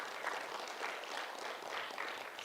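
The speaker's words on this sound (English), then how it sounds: "a big round of applause for all our speakers" Steady applause from a conference audience for its speakers, even continuous clapping heard quite faintly and from a distance.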